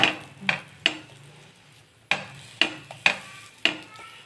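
A stuffed radish paratha cooks on a griddle as a spatula flips and presses it, giving a series of sharp taps and scrapes at an uneven rhythm, close and clear with no talking.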